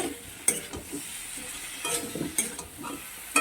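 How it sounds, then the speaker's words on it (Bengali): Fried potatoes being stir-fried with spices in a pan for a prawn and jackfruit curry, a soft continuous sizzle broken by several scraping stirs and brief clinks of a spatula against metal, close and moderately loud with no voices. "এই সঙ্গে আলুগুলোকে ভালো করে কষিয়ে নেব"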